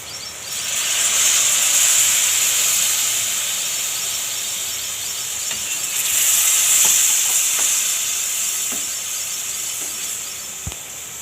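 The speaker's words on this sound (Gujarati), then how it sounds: "હવે આપણે આમાં પાણી નાખશું." Water poured into a pan of sizzling karela and onion curry with spices sets off a loud, steady hiss and sizzle. The crackling swells twice as the water hits the hot oil, then keeps bubbling close by.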